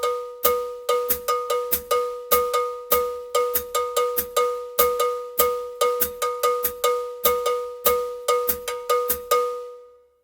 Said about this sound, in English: So the Frygian mode as a bell pattern will sound like this.